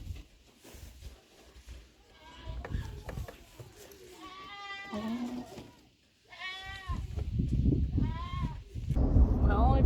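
Nubian dairy goats at a Canadian goat show bleat several times in loud, wavering calls close by, with rustling and background noise between them.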